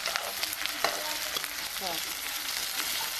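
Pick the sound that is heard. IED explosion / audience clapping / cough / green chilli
green chilli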